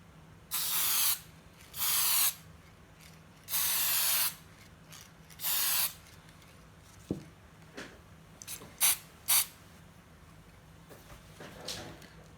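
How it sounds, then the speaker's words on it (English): A spray paint can hisses in several short bursts onto a toy blaster, each about a second long, separated by pauses with faint clicks and handling noises. "spray the parts that's still showing the primer"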